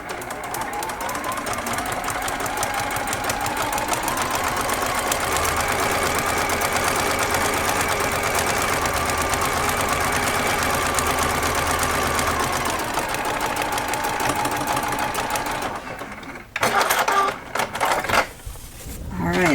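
Sewing machine stitching quilt fabric, a rapid steady mechanical whir running continuously up close for most of the stretch, then stopping into a few brief bumps and handling noises.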